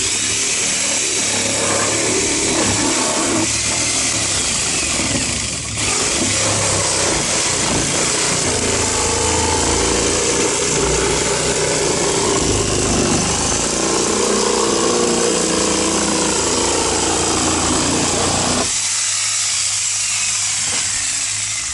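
A power saw cuts steadily through the wood and metal of a hot tub being removed, a loud continuous grinding whine with slight dips in pitch as the blade bogs, close and uninterrupted.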